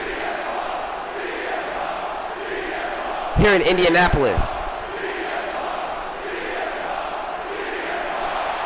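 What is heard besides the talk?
arena crowd singing CM Punk's song, WWE 2K25 video game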